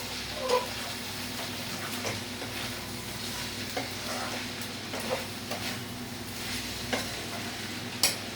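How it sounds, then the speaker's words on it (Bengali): Mixed vegetables simmer in a covered pot on the stove while a spoon stirs them now and then, giving a steady low bubbling hiss broken by soft scraping knocks against the pot. "সবজিগুলো বয়েল হয়ে গেছে।"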